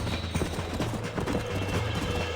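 Horse hooves gallop in a rhythmic, fast clip-clop during a ride in the video game Red Dead Redemption. The pounding stays steady and fairly close, with faint game ambience underneath.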